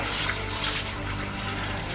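Water poured into a pot of rice, a steady broadband splashing trickle running continuously and close, with no talking over it.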